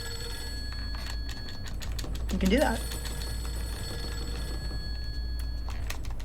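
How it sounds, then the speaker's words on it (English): A ringing telephone in Fatal Frame III: The Tormented sounds out through a steady low game hum, with a voice speaking briefly over it. "So we're just gonna listen to this totally fine phone call."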